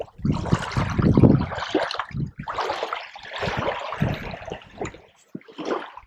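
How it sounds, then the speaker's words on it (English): Water trickles and splashes continuously at close range in a swampy spot beside a clear mountain stream, the flow uneven with bursts and brief lulls, heard alone without talk. "Listen to the water."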